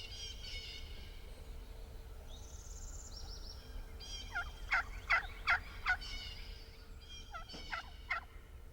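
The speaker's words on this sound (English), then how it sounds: "The basic call of wild turkey vocabulary is a yelp. And a yelp is built into every box call." A wooden box turkey call yelps in short series of sharp, raspy notes, about four evenly spaced at the loudest, then a couple more, close and clear over a low background hum.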